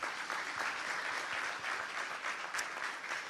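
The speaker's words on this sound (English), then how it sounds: "Please join me to give them a warm round of applause to the panelists." An audience applauds steadily throughout, a dense, even wash of clapping from a crowd at a panel session of a water conference, with no voices over it.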